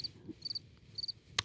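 Cricket chirps as an added sound effect, three brief high trilling bursts in steady rhythm, faint, followed by a sharp click.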